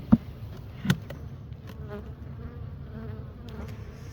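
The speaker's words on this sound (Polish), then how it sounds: "Już więcej pszczoły." Honeybees buzzing at an opened hive, a continuous close hum with a couple of sharp knocks on the wood near the start, no talk.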